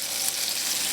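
Potatoes laid into hot oil with garlic and rosemary, a bright, steady close-up sizzle of frying with no voices.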